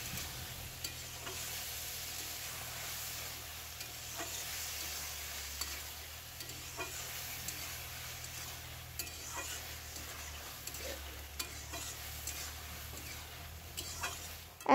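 Sponge gourd (dhundul) sautéing on high flame in a pan: a steady, faint sizzle with intermittent stirring scrapes and soft clicks of a utensil, no voices.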